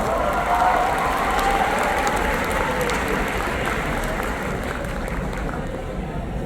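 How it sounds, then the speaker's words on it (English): A large audience at a TEDx talk bursts into steady, dense applause that holds loud and continuous throughout, with a faint crowd murmur mixed in. "Please welcome with a big round of applause"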